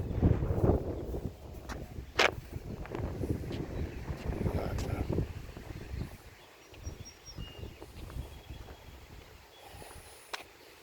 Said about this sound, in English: Yeah, it's getting windy.